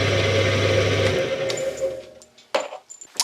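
A wood lathe holding a walking stick blank gripped from the inside whirs at steady speed, then winds down, leaving a few sharp knocks and clatters near the machine.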